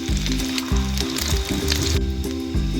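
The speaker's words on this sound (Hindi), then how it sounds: "अब दोबारा से जो बची हुई टिक्कियाँ हैं उनको भी इसी तरह फ्राई कर लेंगे" Aloo tikki potato patties fry in hot oil with a loud, close, continuous sizzle and crackle, sputtering throughout without any talk.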